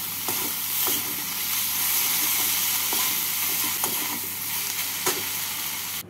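Prawn filling frying in a pan with chopped coriander stirred in, a continuous loud sizzle broken by light periodic scrapes of the spatula.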